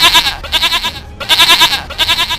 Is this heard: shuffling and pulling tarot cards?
no